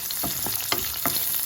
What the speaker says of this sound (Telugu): సో ఇలా రోస్ట్ అవుతున్న టైంలో, అండ్ ఈ పప్పులు ఇవి కూడా రోస్ట్ అవడానికి కొంచెం టైం పడుతుంది